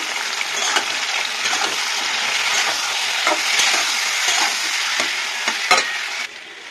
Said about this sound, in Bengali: অল্প সামান্য হলুদ দিয়ে দিলাম। দিয়ে পটলটাকে ভালো করে ভেজে নেব।